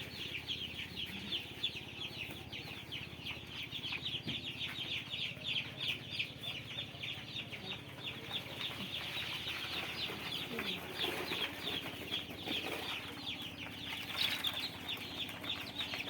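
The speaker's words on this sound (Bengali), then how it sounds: "এই মুরগি বাচ্চাগুলো ছাড়া হচ্ছে।" Newly hatched country chicks are being released into a brooding pen lined with wood shavings and newspaper, with constant high peeping and clucking from many birds alongside light shuffling, steady and close throughout.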